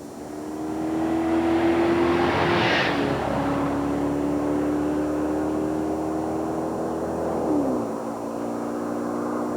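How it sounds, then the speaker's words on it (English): A performance car with a 4-cam, 32-valve, 250-horsepower V8 drones at steady revs, rises briefly in pitch, then eases off near the end. The engine is loud and close, with no voices over it. "Imagine for a moment a performance car. One with a 4-cam, 32-valve, 250 horsepower V8."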